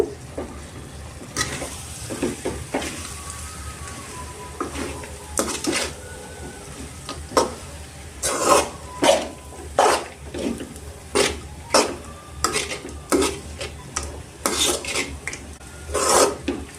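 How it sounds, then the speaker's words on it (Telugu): A spoon scrapes and stirs mango rice in a pan, producing repeated rhythmic rasping strokes close up, growing more regular and pronounced in the second half over a low background hiss. "రైస్ వేసుకున్నాక ఒకసారి కలుపుకోవాలండి మొత్తం"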